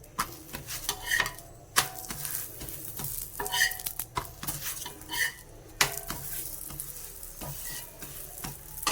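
A chapati cooks on a pan over a high flame and is turned repeatedly, giving a continuous sizzle broken by scraping and clattering knocks of the utensil against the pan.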